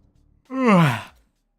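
A single drawn-out yawn from a tired game character, rising then sliding downward in pitch, close and fairly loud, about three-quarters of a second long after a brief quiet moment.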